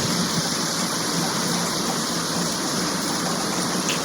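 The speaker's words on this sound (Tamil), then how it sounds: "ஃபுல்லாக மழை பெஞ்சிட்ருக்கு" Heavy rain pours down in a dense, unbroken hiss, steady and loud throughout with no voices.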